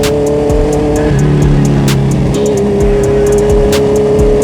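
Road traffic heard from a Honda CBR650R motorcycle in congested Philippine streets, a loud steady engine and road drone with passing vehicles and shifting pitch, close and continuous, with no talk.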